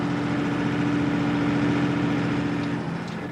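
A Mercedes diesel bus engine running on diesel, a steady moderate drone with a faint whine, fading slightly toward the end.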